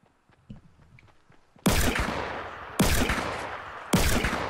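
Three sharp, loud gunshots from the video game Fortnite ring out at steady intervals, each with a decaying tail, after a quiet stretch of faint background game sounds.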